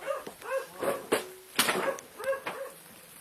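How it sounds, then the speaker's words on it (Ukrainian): A dog barks several times in short, irregular bursts, fairly close and clear, with brief pauses between barks. "Собака."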